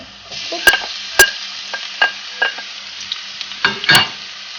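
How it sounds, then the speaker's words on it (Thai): Ginger, garlic and shallots stir-fry in a hot pan, with a soft sizzle under a series of sharp, close clicks and scrapes from the spatula at irregular intervals. "เราก็ผัดขิงให้หอมเลยเนาะแล้วเราก็ใส่ นี่นะเป็นกระเทียมแล้วก็หอมลงไป"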